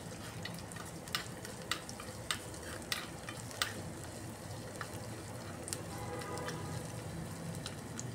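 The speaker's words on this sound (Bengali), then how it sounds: "এইভাবে নাড়িয়ে একটু হালকাভাবে ফ্রাই করে নিয়েছি আদা রসুন।" Ginger and garlic sizzle softly in hot ghee while a spoon stirs them, with scattered light scraping clicks over a steady, quiet frying hiss.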